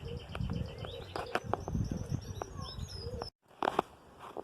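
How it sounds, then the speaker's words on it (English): Birds in a castle aviary cooing and chirping steadily in the background, with overlapping calls from a flock at moderate distance and a brief gap of quiet near the end. "Behind me, you hear the birds in the aviary."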